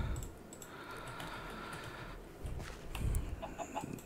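A Minecraft chicken gives a few short clucks late in the clip, over steady in-game background noise.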